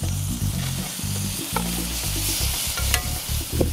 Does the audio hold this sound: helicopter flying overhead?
no